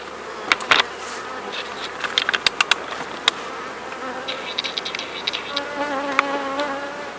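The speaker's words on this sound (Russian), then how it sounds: "Пчелы обсиживают рамочки" Dense, close buzzing of many honeybees clustering on hive frames fills the clip, with sharp clicks and knocks scattered throughout and a few louder bees droning past.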